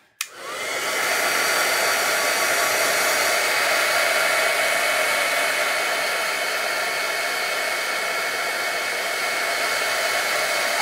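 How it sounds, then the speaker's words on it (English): A heat gun blasts continuously to dry paint on a mixed media card, a steady, close, even whooshing hiss after a brief click as it switches on. "I'm going to pull out my heat gun. We're going to dry it off a little bit."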